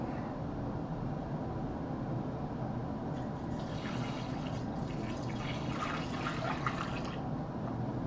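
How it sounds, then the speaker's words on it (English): Beer wort is poured into a Mr. Beer keg, a steady liquid pouring and splashing that swells in the middle, close and moderately loud over a constant low background hiss. "And pour the rest of our wort in."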